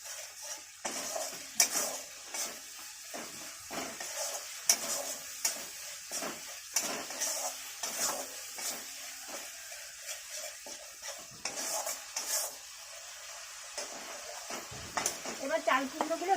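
Spice paste frying in oil in a pot while being stirred for a Bengali dish of ash gourd and prawns, with irregular scraping and clinking of a utensil against the pan over a steady faint sizzle.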